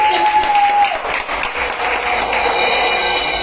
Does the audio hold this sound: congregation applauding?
yes